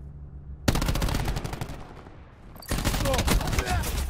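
Rapid automatic gunfire in Call of Duty Black Ops 4, loud and close, a burst of quick repeated shots, a brief lull, then another sustained volley.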